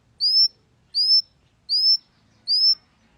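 A small pet bird calling nonstop indoors, four sharp, bright, rising chirps repeated at an even pace, loud and close against near silence.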